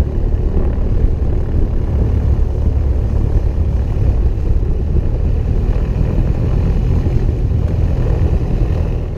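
A steady, loud propeller engine drones continuously from start to finish, a low throbbing hum with no voices over it.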